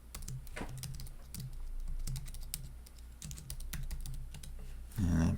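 Keys tapped on a Mac keyboard for a shortcut, a few soft clicks and short bursts of typing over a low background hum, with a brief louder thump near the end and no talking.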